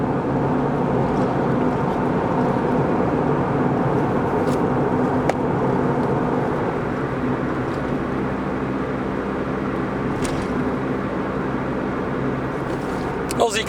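A Honda Civic EK9 Type R four-cylinder with VTEC drones steadily at high revs, loud and continuous from inside the car, with a faint click or two along the way.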